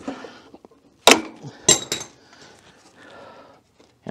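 A loose metal stud from a seized VW Beetle engine drops onto a hard surface, giving a few sharp metallic clinks and bounces close by, followed by faint rattling.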